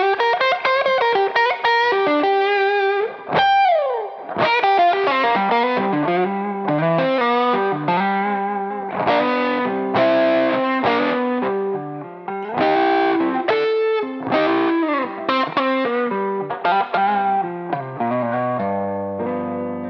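Gibson Switchmaster electric guitar with a warm, overdriven blues tone, playing a continuous lead line of bent and sustained notes, loud and close with no voices.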